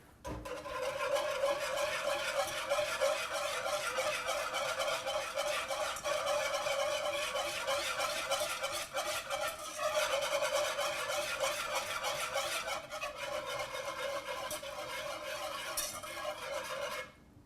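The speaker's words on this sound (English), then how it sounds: "I'm going to whisk this together." Whisk scraping steadily through chicken stock and oil in a pan, a continuous fast rhythmic rasping and clinking that stays close and loud throughout, with no talk.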